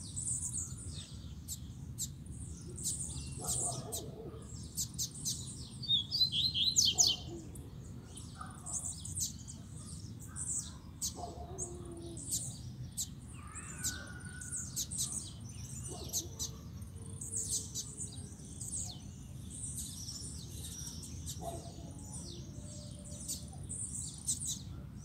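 A caged double-collared seedeater (coleiro) sings in repeated bursts of high, bright trills and chirps that recur through the clip over a steady low background rumble, with other faint bird calls mixed in.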